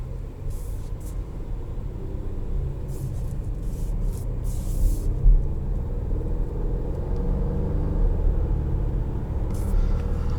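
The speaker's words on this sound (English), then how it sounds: "Let's go for a drive." Steady road noise and low engine rumble inside a 2022 Volvo XC60 T8 Recharge hybrid SUV with a 2-liter turbocharged and supercharged four-cylinder, continuous and close throughout with no talking.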